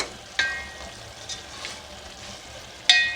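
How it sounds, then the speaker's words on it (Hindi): Barbecue keema minced meat is stir-fried in a pan, giving a soft continuous sizzle with a few sharp scraping clinks of a utensil against the pan. "अब मैं इसको अच्छे तरीके से भून लूँगी।"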